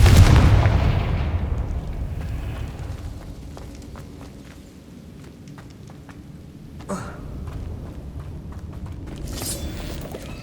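The Confringo fire spell explodes in Hogwarts Legacy on PS5, a heavy booming blast up front that rumbles away, followed later by a sharper second burst amid low game ambience.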